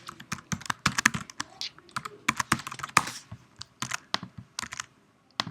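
Close-up typing on a computer keyboard, a quick irregular patter of crisp key clicks in short bursts, with a few pauses between words and no talking.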